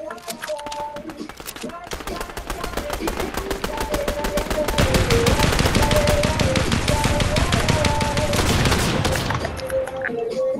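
Fortnite gameplay gunfire rattles in rapid automatic bursts that build into a dense, loud fusillade and then thin out, while a voice talks at moments and game tones ping over the shooting.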